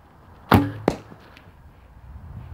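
A heavy arrow loosed from a Junxing F185 recurve bow fitted with string silencers gives a sharp, damped thump followed by a second quick impact, close and brief, with no voices.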